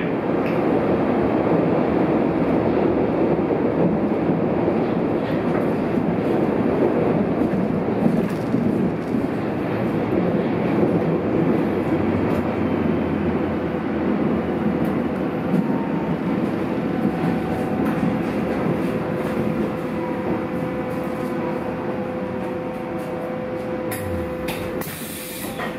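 A Berlin U-Bahn U6 subway train, an F84 type unit, running between Westphalweg and Alt-Mariendorf, heard from inside as a loud continuous roar and hiss of wheels and motors, easing slightly near the end.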